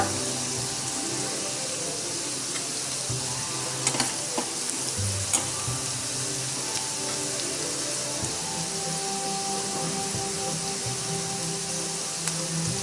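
Momo filling sizzles and crackles steadily in a hot pan, a dense frying hiss running throughout with scattered scraping stir strokes and occasional clinks, no voices.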